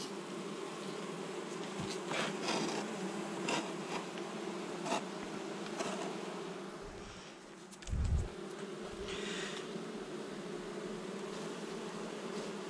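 A honey bee colony buzzes during a hive inspection two weeks after trap combs were used and the queen was released. The drone is continuous and fairly quiet, broken by a few soft knocks and a dull thump.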